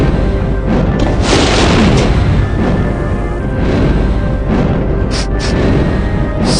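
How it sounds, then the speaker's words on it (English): A wall of fire bursts up in the Journeyman Project 3 video game, heard as a loud, sustained roaring whoosh with booming low rumble that fills the whole stretch without speech. "A pessimist might view a wall of fire popping up in front of them as a minor setback."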